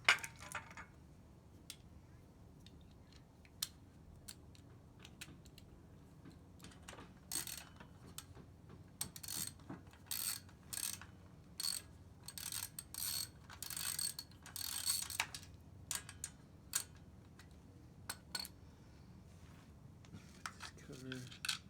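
A ratchet with an 8mm socket works the skid plate bolts on a 2020 Honda CRF110F, giving bursts of close, rapid clicking that come and go, with low background noise throughout.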